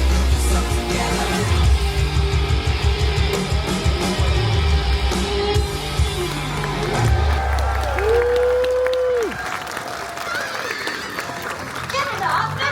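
A crowd at a Lego music festival claps and cheers loudly over pumping music, with children's voices and a sliding synth tone mixed into the noisy celebration.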